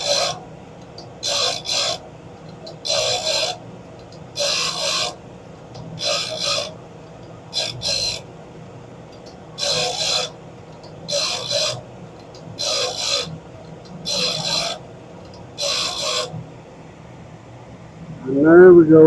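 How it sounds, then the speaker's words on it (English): A grinding wheel sharpens the top of a strobe saw blade with a steady run of rasping bursts, each lasting about a second with short pauses between, over a low motor hum. "And there we go for the top grinding"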